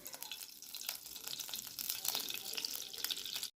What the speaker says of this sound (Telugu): గ్యాస్ ఆన్ చేసుకుని మూకుడు వేసి పెట్టుకున్నాను. అందులోని నెయ్యి వేసుకుంటున్నాను.